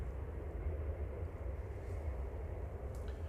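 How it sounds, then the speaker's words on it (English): A Ryanair Boeing 737-800 bound for Belfast departs Manchester Airport, a steady low jet engine roar rumbling continuously at a distance, even in loudness throughout, with no talk. "Ryanair 191 to Belfast there, departing."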